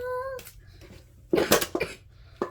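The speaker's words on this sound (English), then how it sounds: "Cough attack." A man has a brief coughing fit while opening Yu-Gi-Oh! card packs: a short cluster of harsh, close coughs after a moment of quieter sound.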